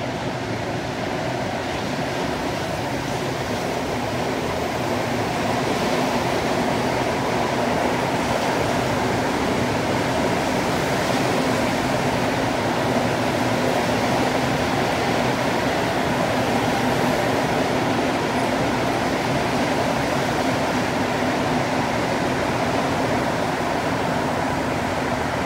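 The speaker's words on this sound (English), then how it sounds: "here comes the train." Montreal Metro MR-73 train arriving in a tunnel at Berri-UQAM station on the Yellow Line, a steady loud rumbling roar of wheels and motors that fills the whole stretch without letting up.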